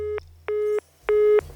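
An unanswered outgoing phone call rings back with three evenly spaced electronic tone bursts, each separated by a short pause, loud and close with nothing else sounding.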